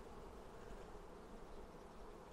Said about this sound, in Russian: хорошие пчелы, все темные.